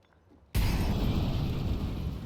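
A grenade in a competitive first-person shooter match goes off with a sudden loud blast after a quiet moment, followed by a sustained, rumbling roar that slowly fades.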